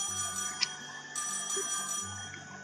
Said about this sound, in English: then we get a phone call